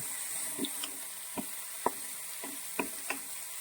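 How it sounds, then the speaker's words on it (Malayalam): A jackfruit seed stir-fry mixed with ground paste is stirred in a pan: soft sizzling underneath and a series of distinct spatula knocks and scrapes at irregular intervals. "അരപ്പും ചേർത്തു പിന്നെ ഇത് നന്നായിട്ടൊന്ന് മിക്സ് ചെയ്യുവാണ്"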